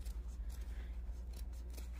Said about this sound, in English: So then you're just going to cut your quarter inch seam.